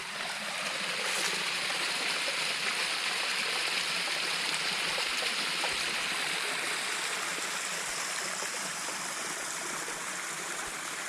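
Creek water flows steadily along a hiking route in Utah's Canaan Mountain Wilderness, a loud, continuous rushing and gurgling with no breaks and no voices.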